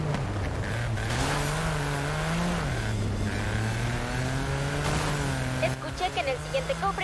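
Cars in the racing video game Forza Horizon 5 with a Hot Wheels theme, a steady droning engine note that rises and dips, with tire squeal and a voice talking over the game audio.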